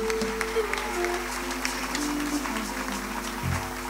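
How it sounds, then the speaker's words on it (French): Concert audience in a stadium applauds with a continuous wash of clapping and crowd noise, while a low steady hum runs underneath and a voice speaks over it. "d'un certain Samuel Koupaki, merci de l'applaudir,"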